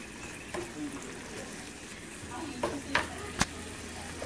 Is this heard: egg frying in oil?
yes